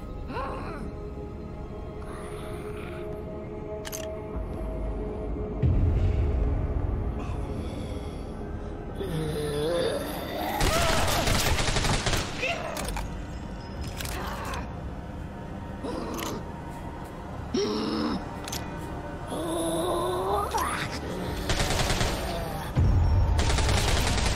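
Video game gunfire rings out in bursts and rapid volleys across a tense stretch, loud shots broken up by mechanical clicks and gaps, with a player's voice talking in between.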